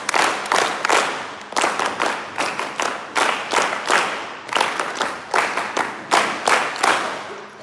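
A group claps together in a repeated rhythmic pattern of quick bursts, a chant-like applause for National Service Scheme volunteers at an official West Bengal event, loud and steady throughout.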